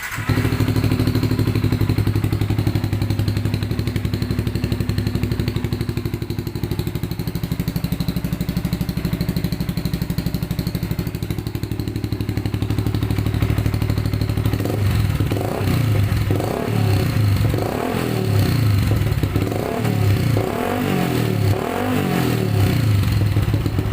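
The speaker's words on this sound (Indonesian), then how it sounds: "coba kita nyalakan motornya mas bro" A motorcycle fitted with a fake turbo whistle on its exhaust idles loudly and steadily up close, a thin whistling tone riding on the engine, then blips and revs in rough bursts toward the end.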